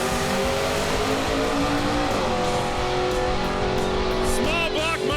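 A 1930 Ford Model A with a big-block engine makes a drag race pass, loud continuous engine roar with rising revs and a shift midway, heard near and dense throughout.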